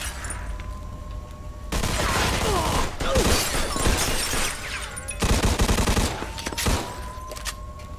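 Gunfire in the video game Mafia 2: Definitive Edition, dense bursts of automatic fire in two long volleys with breaking glass and impacts, loud and close, between quieter stretches.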